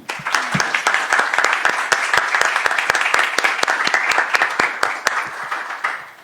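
An audience at a university law faculty talk applauds warmly, with many hands clapping in a steady, lively patter of sharp claps that carries on without a break.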